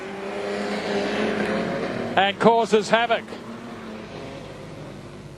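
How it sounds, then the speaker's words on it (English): A production sedan race car, number 99 and trailing smoke, roars down the main straight at Gympie Speedway. Its engine swells into a brief, loud burst of pulsing revs over a steady background drone while a commentator talks. "Peter Thompson with a lot of smoke coming out of the back of car number 99 leads up the main straightaway"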